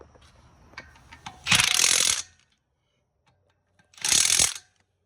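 A hand wrench ratcheting as bolts are torqued to spec on a hot rod at a car tour stop, two loud close bursts of rapid clicking separated by a short pause.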